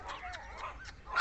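A litter of eight young puppies whimpers and yips at play. Several short, high whines and yelps come close together and fairly near, ending in a sharper cry.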